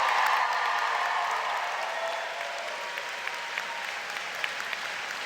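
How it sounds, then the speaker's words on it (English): Graduates and audience at a College of Education spring convocation ceremony applaud together, a dense, sustained crowd clapping that starts full and slowly tapers, with a few sharper claps standing out toward the end. "You can clap."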